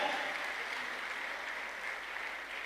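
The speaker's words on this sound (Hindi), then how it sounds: "जोरदार ताली बजाओ यार सर के लिए" Steady audience applause from a crowd welcoming a guest at a business event, a continuous dense patter of many hands clapping without any speech.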